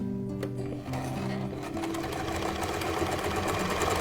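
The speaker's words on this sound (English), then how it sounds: "it's time to sew those pleats in place" A sewing machine runs steadily, stitching a 1/4 inch seam across the pleats of a fabric face mask, with a continuous close, loud mechanical whir.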